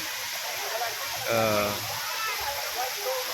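Water spilling from a tipping bucket outdoors, a steady rushing pour that swells briefly midway, with voices around it.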